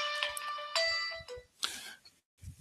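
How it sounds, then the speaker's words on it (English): A mobile phone ringtone plays as a bright, repeating electronic melody in short bursts with brief gaps, fairly close and clear, with no talking over it. "Naturally, when I start recording, my phone wants to ring."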